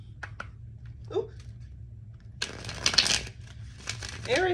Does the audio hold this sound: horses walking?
no